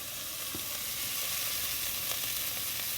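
Beef for birria sears in very hot oil, a loud, even, close sizzle with faint crackles throughout and no talking.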